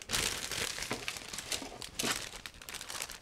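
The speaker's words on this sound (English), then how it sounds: "I will open another plastic bag in order to take out parts for the aircraft" A plastic bag holding parts of an ICM 1/48 Ju 88A-4 model kit crinkles and crackles loudly up close as it is opened, in continuous rustling bursts.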